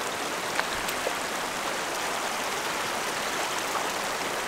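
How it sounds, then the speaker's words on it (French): A river flows in a constant broadband rush of water, steady and close, with faint splashes as water is collected; no voices are heard. "Je vais récupérer l'eau dans la rivière."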